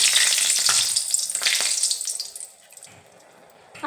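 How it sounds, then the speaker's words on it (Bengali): Two or three dried red chillies hit very hot mustard oil in a kadai, setting off a loud bright crackling sizzle that fades over a couple of seconds to a quieter simmer. "এখন এই তেলের মধ্যে দুই তিনটে শুকনো লঙ্কা"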